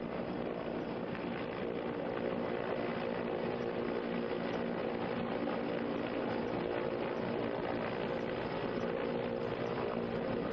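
Army helicopter hovering during a rescue in which a soldier climbs a rope back up to it, a steady, loud, continuous rotor and engine roar that fills the whole stretch without letup and with no talk.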